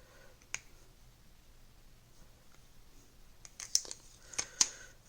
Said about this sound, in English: And let's remove this casing here. It's slightly hard to take this sticker off.